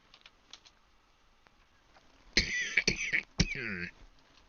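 A few harsh, close coughs in a short burst of two or three, with a throat-clearing rasp, following a quieter stretch of soft keyboard-like tapping.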